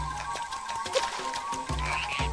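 A cartoonish frog croaks a few times in the Zelda: Echoes of Wisdom video game, short low bursts over a soft game soundscape with light chimes and a steady hum.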